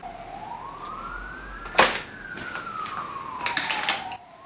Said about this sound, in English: We have the obligatory sirens.